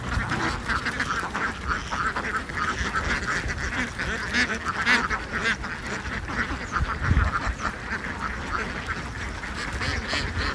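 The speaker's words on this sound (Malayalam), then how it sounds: "ആ കറുപ്പൊക്കെ ആൺ താറാവാട്ടോ" A large flock of Kuttanad ducks in Alappuzha quacks continuously, overlapping calls at close to middle distance forming a busy, unbroken chatter with no talk.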